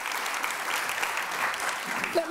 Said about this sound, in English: Let's start by giving them a round of applause, ladies and gentlemen.